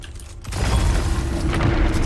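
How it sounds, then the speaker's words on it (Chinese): A defeated enemy blows up in the shooter game Gunfire Reborn, a loud sustained boom with mechanical rumble that swells after a quiet half second and holds steady to the end. "敌人被击败后会爆炸。"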